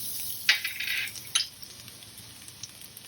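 Finely chopped garlic goes into a frying pan, heard as a soft hiss of frying with two sharp metallic clinks of a utensil against the pan and light stirring scrapes.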